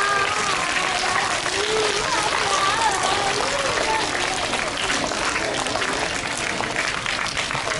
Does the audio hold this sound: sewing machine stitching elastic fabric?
no